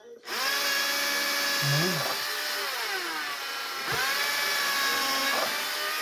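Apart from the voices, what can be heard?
power drill drilling holes for a bee feeder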